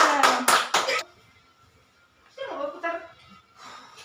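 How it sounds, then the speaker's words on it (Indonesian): A class of young schoolchildren clapping hands together in a classroom, a few sharp rhythmic claps at the start, then children's voices chanting and calling out afterward, the clapping close and bright before the talk takes over. "Oke, tepuk tangan kita semuanya"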